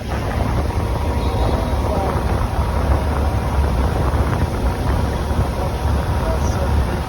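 An evaporative cooler's motor and pulley run steadily at close range, giving a constant broadband whir and rumble with a windy, rushing quality while a person talks over it.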